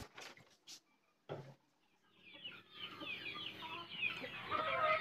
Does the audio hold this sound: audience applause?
no